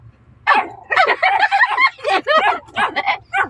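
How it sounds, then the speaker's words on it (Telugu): Dogs on a road bark and yip in quick, close, loud bursts, with an irregular rhythm and short pauses between the barks. "లక్కీ రోడ్డు మీద కుక్కలు వచ్చి అరుస్తున్నాడు గైస్"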